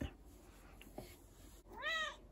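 A pet cat meows indoors, giving a few short faint calls and then one clear, drawn-out meow near the end, close by and alone without talk.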